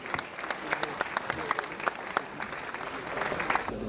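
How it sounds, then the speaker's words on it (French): A crowd at a combat sports bout applauds as a fighter gets back up, a fairly faint, distant spread of many hands clapping that runs throughout. "il se relève et on peut applaudir avec les honneurs"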